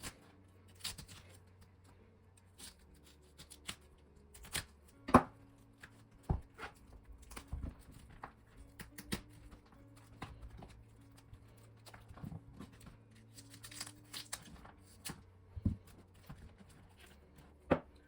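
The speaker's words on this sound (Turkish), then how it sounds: "Şimdi bıçak vurmadan şöyle iri iri parçalar halinde karnabaharımı parçalıyorum." Cauliflower broken by hand into large chunks for pickling, a series of sharp, separate crisp snaps and cracks at an irregular, unhurried pace, close and fairly quiet, with soft handling rustles between.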